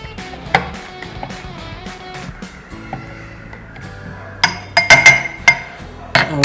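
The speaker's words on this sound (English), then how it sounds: "Now we need to muddle it a little bit more so that the gin is mixed with the flavor of mulberry." Mulberries are muddled with gin in a glass, giving repeated dull taps and thuds with sharper glassy clinks near the end, close and irregular, with no talking.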